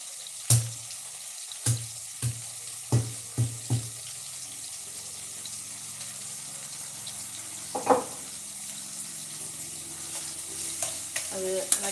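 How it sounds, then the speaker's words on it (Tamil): Onions sizzle quietly in oil under a steady frying hiss, broken by several sharp clinks and scrapes of a spoon against the pan. "நல்லா வெங்காயம் வதங்கட்டும்"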